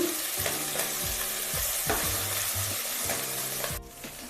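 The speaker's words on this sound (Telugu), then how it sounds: "ఇప్పుడు వీటిని మనం ఒక వన్ మినిట్ వేపుకుంటే సరిపోతుందండి" Ingredients for naatu kodi (country chicken) pulao frying in a pan, a steady close sizzle with repeated scraping strokes of a spatula stirring at a regular pace, ending in a sudden drop in the hiss.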